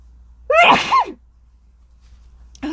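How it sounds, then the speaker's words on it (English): A single loud, close sneeze with a sharp inhaled build-up, followed by silence and then a voice starting to speak. "I'm going to sneeze."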